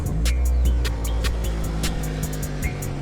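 A car engine started with a portable jump starter catches almost immediately and settles into a loud, close, rumbling idle with a few clicks and rattles, without talking.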